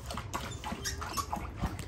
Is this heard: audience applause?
no